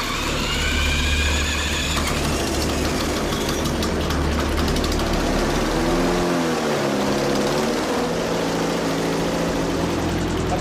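A propeller engine runs loud and close during an EMP generator test, with a steady throbbing drone whose pitch wavers and sags partway through as it keeps running.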